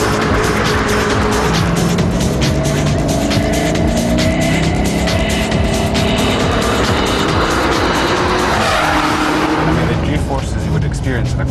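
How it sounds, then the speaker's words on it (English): A Ford GT40 sports car roars at speed, its engine loud and sustained throughout with shifting pitch and possible tire noise, while someone talks over it. "This is the GT40 Ford, which is my first super sports car I ever"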